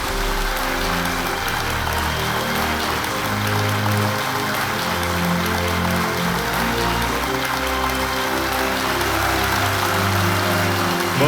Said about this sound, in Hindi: पद्मश्री डॉक्टर रविंद्र कोहले और पद्मश्री डॉक्टर स्मिता कोहले का तालियों के साथ अभिनंदन और स्वागत किया जाए